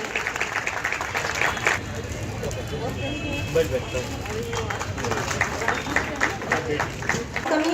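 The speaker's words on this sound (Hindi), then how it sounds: "जोरदार तालियों के साथ शामिल हो स्वागत सत्कार की इस बेला में" Crowd clapping to welcome a guest at a public ceremony in Chhindwara, a dense patter of hands that grows busier toward the end, with voices talking over it.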